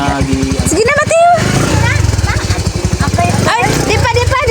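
A motorcycle engine runs close by in a rural Philippine setting in Iloilo, a steady buzzing drone that continues under chatty voices and goodbyes throughout.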